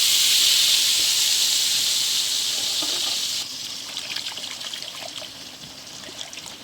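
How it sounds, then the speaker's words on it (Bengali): Water is poured into a pan of mustard hilsa curry, a loud steady trickling hiss for about three seconds, then softer bubbling and sizzling in the pan. "আরও একটু জল দিয়ে দিলাম"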